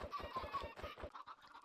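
A flock of Minecraft chickens, around ninety chicks, clucks in rapid overlapping bursts, a busy, close, rhythmic chatter with no talking over it.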